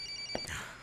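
A telephone rings in a Filipino-dubbed drama, with two short electronic ring bursts a half-second apart over a quiet background hum.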